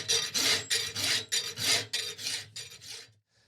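Rasp filing across still-hot steel while shaping a pair of wolf jaw tongs: a loud, close, rhythmic grating in about ten steady strokes that stop short near the end.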